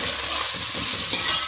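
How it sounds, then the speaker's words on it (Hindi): Onions fry in a hot pan with salt added, a steady close sizzle broken by soft scraping stirs, with no voices. "और प्याजों को फ्राई कर लूँ।"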